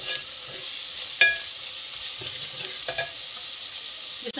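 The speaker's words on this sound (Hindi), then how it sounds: "इसमें आप सबसे पहले ये ज़ीरा डाल देंगे। ज़ीरे को हल्का सा फ्राई करके" Cumin seeds fry in oil alongside golden-browned onions, giving a steady broadband sizzle with a few faint clinks of stirring, close and continuous with no voices.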